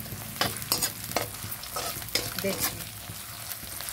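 Long green chillies frying in a pan for cabbage Manchurian, a steady close sizzle broken by repeated spatula scrapes and stirs, with a brief spoken word partway through.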